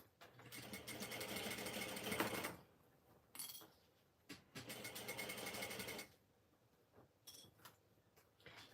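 A domestic sewing machine stitches a fabric pouch in two steady whirring runs of a few seconds each, separated by quiet handling clicks and small knocks.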